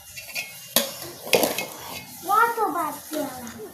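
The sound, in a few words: serving rice with utensils, dishes clinking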